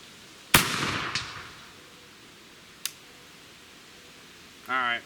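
A single loud, sharp blast from an 1853 rifle musket, followed by a decaying echo, a fainter crack a couple of seconds later, and a brief voice at the end.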